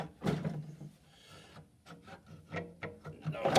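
A bearing shell slides into place on the front main of a Cat 60 engine, heard as soft, close scraping and rubbing with a scatter of small metallic clicks and taps, quiet and irregular.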